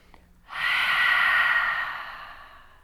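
A single long, deep exhale during yoga breathing rushes out close to the microphone, swelling quickly and then fading slowly over about two seconds.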